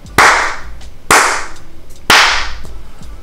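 Three loud, sharp hand claps, evenly spaced about a second apart, each with a short ringing decay, made to sync camera audio for a multi-angle shoot.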